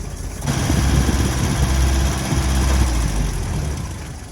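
A car engine with a backfire problem from fuel starvation runs loud and steady, a low rumbling drone that starts abruptly and holds at a roughly constant level without clear rev surges.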